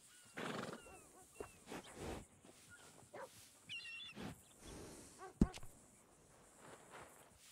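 Horses at a stable in the Red Dead Redemption 2 video game, with a horse neighing and whinnying at the start, soft hoof clops and stable noises throughout, and a sharp knock near the end, faint overall.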